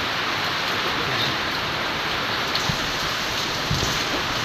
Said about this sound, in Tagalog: pakita natin yung ulan